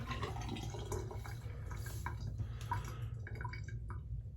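Water is poured onto a straight razor sharpening stone, a steady close trickle and splash with scattered drips over a constant low background rumble.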